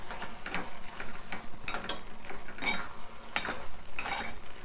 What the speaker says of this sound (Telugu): నెయ్యి వేసుకొని అంతా కలుపుకుందాం మంచిగా.